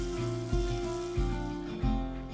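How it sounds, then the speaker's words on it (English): Butter, about a quarter cup, sizzling steadily as it melts in a hot pan, with a close, continuous crackle and periodic louder bursts. "we're gonna use about 1/4 of a cup of butter. Hear that sizzle?"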